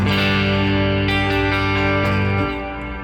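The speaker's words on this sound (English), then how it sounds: "this is just a large hall reverb" Sustained electric guitar chords with distortion through a Fender Tone Master Pro large hall reverb, wide and lingering, the ringing tail decaying slowly as the playing changes.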